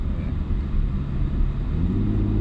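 A Porsche Panamera 4S engine running in sport mode on a mountain road, a steady close low rumble from inside the cabin with a slight rise in pitch, no talking.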